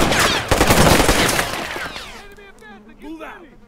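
Enemy machine gun in a war game of U.S. Marines fighting Sandinistas in 1928 Nicaragua: a loud, dense burst of automatic fire that fades out, followed by voices talking.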